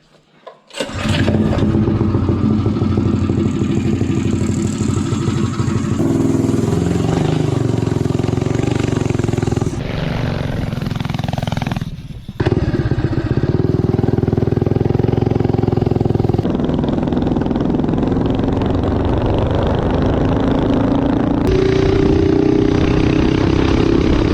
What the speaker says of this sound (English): I'll start from a dead stop, give it full throttle, and let it run all the way to the top end, and then shut it down